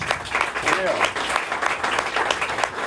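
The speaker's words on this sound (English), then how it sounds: "Big round of applause." Applause from a conference audience in Zürich welcoming Audrey Tang to the stage, a dense continuous patter of many hands that holds steady throughout, with voices mixed in underneath.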